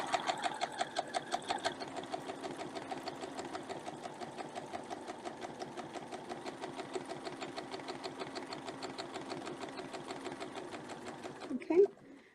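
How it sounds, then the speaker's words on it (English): A sewing machine stitches in a steady, rapid mechanical rhythm for over eleven seconds and then stops with a brief clunk at the end. "We're nice and tight, and we'll just sew that."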